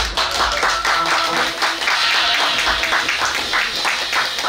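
An audience claps and cheers between bands at an indie club concert, dense close applause rising and falling in a steady wash of hand claps with no talking over it.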